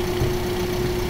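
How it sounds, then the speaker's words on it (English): A car engine in the Roblox game Piggy, hard mode, holds a steady low idling hum with a constant drone, heard alone at moderate loudness. "We're busting in with the car"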